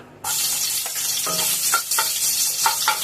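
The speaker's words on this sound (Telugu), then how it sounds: "ఇప్పుడు మనం ఆయిల్ వేడెక్కింది కాబట్టి ఇందులో మనం ఉల్లిపాయలు వేసుకుందాం" Onions tipped into heated oil for tomato rice burst into a loud, close sizzle and keep hissing steadily, with intermittent clattering stirs against the pan and no speech.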